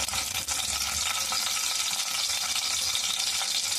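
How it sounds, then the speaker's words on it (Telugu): Curry leaves, dried red chillies, mustard seeds, cumin and chana dal tempering in hot oil in a pan give a steady, dense crackling sizzle throughout, close and loud with no voices. "ప్యాన్ పెట్టేసుకొని దాంట్లో ఆయిల్ వేసుకొని పోపు వేసుకోవాలి"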